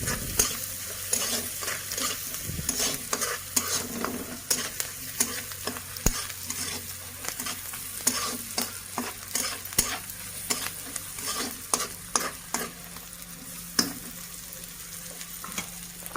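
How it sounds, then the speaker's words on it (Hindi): Ginger garlic paste fries and sizzles in a pan while a spoon stirs it, scraping and clinking repeatedly. The sizzle hisses steadily underneath, close and moderately loud, with no talking. "अदा रसुण बटा टे पकईदेमी"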